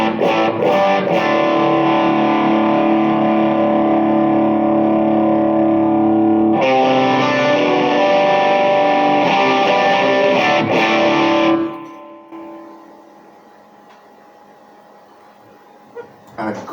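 Electric guitar played through the distortion mode of a Line 6 Helix, loud sustained overdriven chords that ring out, change voicing midway, then cut off and decay, followed by faint background hum.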